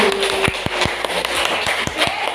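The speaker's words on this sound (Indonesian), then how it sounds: "Tepuk tangan buat kelompok 2" A classroom of students claps for a group in a steady rhythmic pattern of sharp, evenly spaced claps over a brief murmur of voices.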